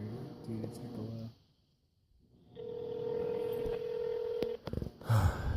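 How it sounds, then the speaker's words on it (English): Phone on speakerphone dialing out, a steady dial or ringback tone held for a couple of seconds between bursts of background noise, with no talk over it. "we're gonna call up Freedom right here, because he's not showing up"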